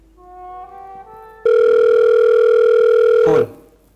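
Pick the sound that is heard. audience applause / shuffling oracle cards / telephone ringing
telephone ringing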